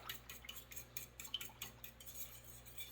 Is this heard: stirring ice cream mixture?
yes